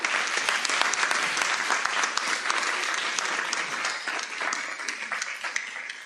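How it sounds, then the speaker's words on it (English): An audience at a school board meeting applauds students with a loud, continuous round of clapping that stays steady throughout and fades slightly at the end, with no talking over it. "Let's give them all another round of applause."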